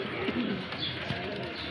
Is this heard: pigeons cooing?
yes